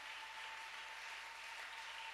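Church congregation applauding during a Sunday service, a steady wash of clapping held at a low, distant level for a couple of seconds with no voices over it.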